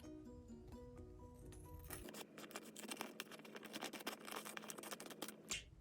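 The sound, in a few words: paper being cut with scissors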